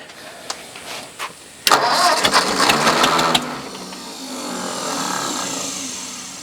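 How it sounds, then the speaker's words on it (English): An old Ford farm tractor engine cranks after a few clicks and sputters into rough running with a loud burst. It then drops back to a steadier, quieter rumble. "It was blowing all kind of leaves and stuff out of that exhaust pipe"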